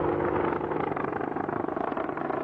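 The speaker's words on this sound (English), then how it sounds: "The Apache helicopter has been around since the early 1980s" An Apache Longbow attack helicopter flies close by, its rotor and turbine roar loud and steady throughout with a rhythmic chopping pulse, no voices.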